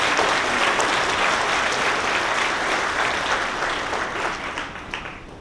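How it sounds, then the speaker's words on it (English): A room full of guests at a sports awards charity dinner applauds for para-athletes, a dense, sustained clapping that starts loud and gradually tapers off, with no speech over it. "I think they deserve another round of applause."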